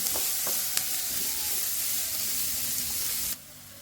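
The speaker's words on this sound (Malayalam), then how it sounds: "സവാള ഒന്ന് വാടിക്കിട്ടണം നമുക്ക് സവാളയൊന്നും വാട്ടിയെടുക്കാം" Onions sautéing in a pan for a capsicum dish, giving a steady close sizzle with a few light stirring clicks, cutting off abruptly near the end; no talking.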